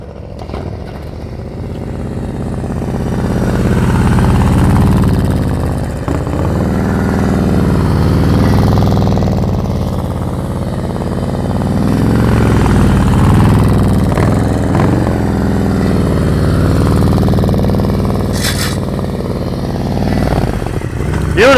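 A motorcycle engine runs at low speed during slow-speed riding skills practice in Texas, a loud, steady mid-pitched rumble that swells and eases with gentle throttle changes, continuous and close.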